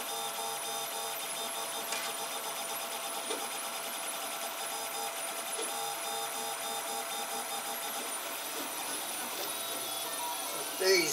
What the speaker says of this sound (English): we're half an hour into the print now